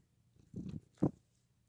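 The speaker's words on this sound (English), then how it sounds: "Oh, sweet kitty." A pet cat at home gives a couple of soft, close purring rumbles in two short bursts, quiet and alone without talk.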